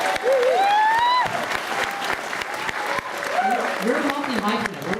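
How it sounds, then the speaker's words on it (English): Enthusiastic audience applause and cheering fill a Toronto After Dark Film Festival 2011 screening as the director is welcomed, a dense steady roar of clapping with whoops and voices rising over it. "One more big round of applause for Jesse!"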